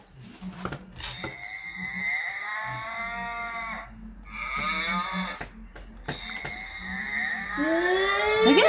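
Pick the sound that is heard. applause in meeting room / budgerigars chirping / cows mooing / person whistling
cows mooing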